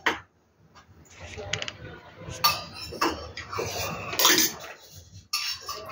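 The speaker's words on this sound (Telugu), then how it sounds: "ఈ పొడి అయితే ఇప్పుడు రైస్లో మిక్స్ చేసుకుందాం" A spoon scrapes and clinks against a dish while mixing spice powder into cooked rice, with irregular metallic taps and rubbing strokes, some louder knocks, close by.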